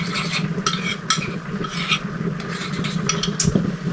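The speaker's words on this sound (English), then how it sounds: "give this a little stir, just to incorporate the honey" A spoon works through a sesame sauce as honey is stirred in, giving soft repeated scraping and clinks against the bowl over a low background hiss, close and fairly quiet.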